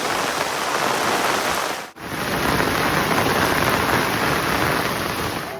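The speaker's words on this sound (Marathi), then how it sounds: "जोराचं वारं आणि पाऊस लागता." Heavy monsoon rain with strong wind pours down steadily over a Konkan rice-farming area, a loud, dense, unbroken roar that dips briefly once before resuming at full strength.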